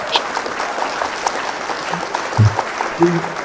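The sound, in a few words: audience applause welcoming a doctor on stage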